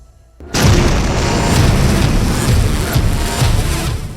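Explosion from an Israeli airstrike on a Hezbollah camp, a sudden loud boom that rolls into a sustained, dense roar of rumbling debris and fire lasting several seconds.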